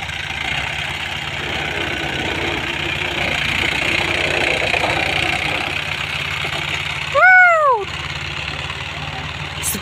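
A 2010 Mahindra 595 DI tractor engine idles nearby with a steady low throbbing drone, joined near the end by a short rising whistle-like tone.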